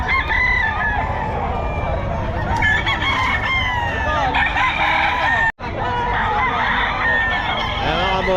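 Several roosters (stags) crow repeatedly at a busy Bocaue pet market, loud overlapping cock-a-doodle-doos and clucks running almost continuously above a constant crowd din, with a voice talking faintly underneath.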